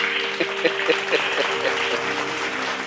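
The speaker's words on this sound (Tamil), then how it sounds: "கைத்தட்டு." An audience at a Bible study gathering claps steadily, a soft, continuous patter with a few louder claps, heard against a constant tonal hum.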